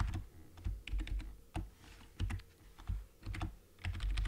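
Quick, uneven keystrokes on a computer keyboard as C++ code is typed, clicking in short bursts with small pauses, close and clear with no talking.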